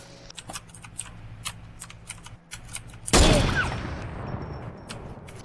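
Near the middle, a sharp, loud gunshot blast rings out in a video game and decays over a second or two. Faint clicks and game noise come before it, and there is little talk.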